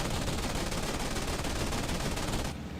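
Continuous rapid machine gun fire from a fighter plane in an IL-2 1946 Battle of Midway dogfight, A6M2 Zero against F4F Wildcat, a dense loud rattling burst lasting nearly three seconds before cutting off.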